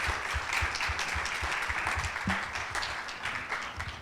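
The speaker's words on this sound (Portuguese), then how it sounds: "E uma palmas para vocês, todos, por estarem aqui." An audience at a climate change lecture at a school event claps together in sustained applause, many hands patting in a lively, fairly even stream at moderate volume.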